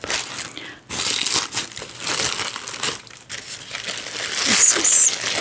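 Silk tissue paper crinkles and rustles as it is unwrapped from a package of vintage finds, close and steady, with a brief quiet gap midway before the crackling grows louder toward the end.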